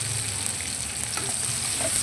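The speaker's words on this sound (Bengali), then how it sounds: "ক্যাপসিকামকে ভালো করে ভেজে নেব।" Capsicum sizzles steadily in oil while being stirred in a pan for chilli paneer, a continuous close frying hiss with faint scraping and no talk.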